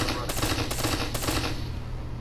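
Rapid automatic gunfire from a video game weapon crackles in three quick bursts, loud and close, before fading into a low rumbling tail.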